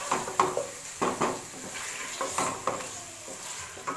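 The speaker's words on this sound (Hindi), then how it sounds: "लहसुन अदरक भी अच्छा सा मैंने इसको फ्राई कर लिया है" Garlic, ginger and onion sizzle in a pan while a spoon stirs them in repeated scraping strokes, each stroke rising briefly over a soft, continuous frying hiss.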